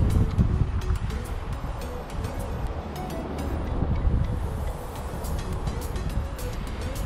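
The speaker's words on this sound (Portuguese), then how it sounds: "Está um pouco de vento" Wind gusts across the microphone at the Douro riverside during fishing, a loud, continuous buffeting rumble with no voices.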